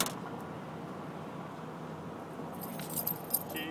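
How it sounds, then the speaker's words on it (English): A set of keys jangles briefly in short metallic bursts near the end, over a steady low hum from a car stopped at the roadside during a traffic stop. "Keys."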